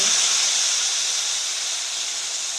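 A ground spice paste goes into hot oil already seasoned with asafoetida and caramelized sugar for a vegetarian potato curry, giving a steady, bright, close sizzling hiss that fades slightly over a couple of seconds.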